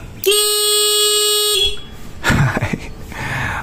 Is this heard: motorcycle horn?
yes